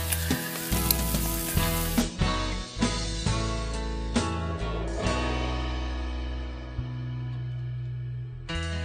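Kanom krok batter sizzles loudly and steadily in a large hot pan, with occasional clinks and scrapes of a utensil, close up and continuous.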